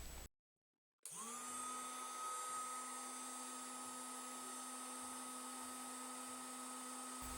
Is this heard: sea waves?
no